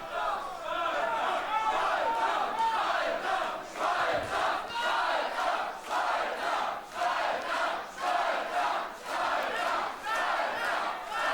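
A large wrestling-show crowd chants and cheers in rhythmic, pulsing waves for a wrestler named Spouter, loud and sustained throughout with overlapping voices.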